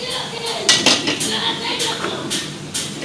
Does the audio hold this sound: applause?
no